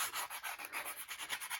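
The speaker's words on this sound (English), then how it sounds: "I want to take my sanding block here and I want to rough this up" A sanding block roughs up the edges of a handmade Christmas clothing tag, rubbing back and forth quickly in an even rhythm, a soft scratchy rasp repeating about every tenth of a second, close and fairly quiet.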